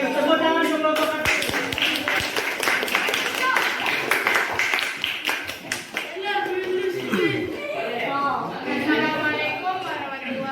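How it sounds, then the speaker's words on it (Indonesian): A school audience claps for a small group coming forward at a teachers' coaching session, with scattered hand claps and taps mixed under continuous chatter and speaking voices. "Tepuk tangan sekelompok kaki"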